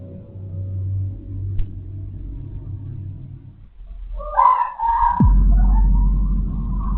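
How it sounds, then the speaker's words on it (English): A woman's short, high, wavering scream cuts through a low rumbling hum at midnight inside an Airbnb, rising suddenly out of quiet background noise before the rumble swells again. "startled by a scream that seemed to emanate from within the Airbnb"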